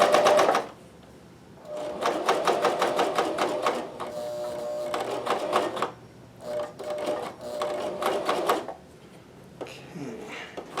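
A sewing machine stitches recycled socks into athletic underwear in rapid bursts of mechanical clatter, stopping and starting several times with short pauses between runs.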